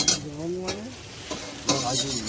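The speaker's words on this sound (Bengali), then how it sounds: "ডিম ভাজা আর কি?" Steady crackling sizzle of eggs frying in a pan, with brief voices and clinks over it.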